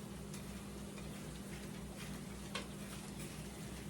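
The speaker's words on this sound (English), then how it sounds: "let's go ahead and give this a stir" A ground beef casserole being stirred in a pot: a quiet, steady sizzling bed with a few faint scrapes and ticks of the spoon.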